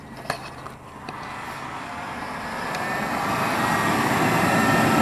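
Heater blower motor of a 1997 Buick LeSabre Custom running as a steady broadband whoosh that swells gradually, with a few faint clicks near the start and no talking.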